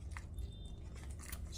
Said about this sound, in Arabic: وهبتدي اعجن معاكم العجينة